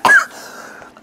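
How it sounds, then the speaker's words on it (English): A single sharp, loud cough bursts out close by, followed by a brief throat-clearing rasp that trails off into quiet. "I just want to see you cough."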